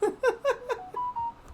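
A phone notification chime of four quick rising electronic beeps followed by a held tone, clear and fairly close, with no talking.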